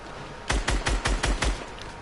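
Rapid burst of gunfire in a Fortnite firefight, six sharp evenly spaced shots in quick succession, fairly close and alone over faint background noise.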